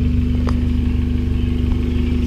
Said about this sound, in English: It's been idling for a couple minutes while I had been getting my GoPro set up.